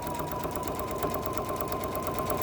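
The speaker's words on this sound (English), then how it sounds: "Just do a couple stitches at a time, and then it will pivot right where you need it to." A sewing machine stitches leather in a fast continuous rhythmic chatter, near and steady for the whole moment, with no talking.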